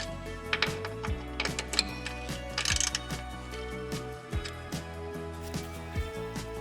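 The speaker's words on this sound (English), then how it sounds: "Once the pipe fitting is fully tight, I'll tighten the brackets onto the chassis rail" Fuel filter brackets are tightened onto the chassis rail of a Mitsubishi Evolution VI CP9A, with quiet, irregular metallic clicks and ticks from hand tools close by.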